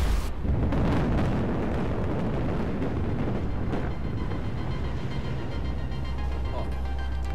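The ship Valkyrie blowing up in the Battlefield 4 video game: a loud, sustained rumbling blast with heavy low roar that stays dense and continuous for several seconds, with faint debris-like crackle on top.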